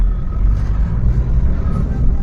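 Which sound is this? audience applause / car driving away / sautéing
car driving away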